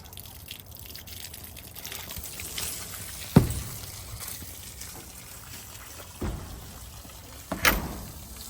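Water from a garden hose runs into a 5-gallon bucket during chicken chores, a soft steady gush under farmyard background with a few louder knocks and splashes.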